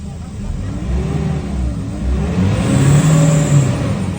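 A Nissan Navara pickup engine with a low-power problem revs up and holds, a loud close motor note whose pitch climbs and wavers over several seconds, with nobody speaking.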